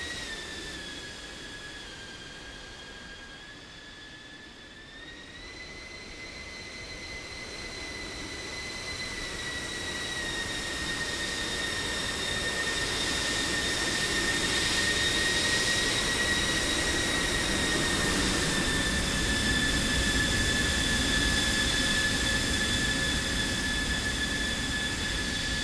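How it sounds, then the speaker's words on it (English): An F-16 Viper jet at airshow practice rolls for takeoff with afterburner, a high whining engine tone rising in pitch and loudness into a broad roar that swells and holds, heard from a distance without talk. "So we'll get to hear what she sounds like on a takeoff roll and the afterburner just after takeoff."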